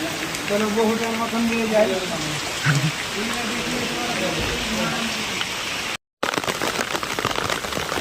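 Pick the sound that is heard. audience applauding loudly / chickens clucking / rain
rain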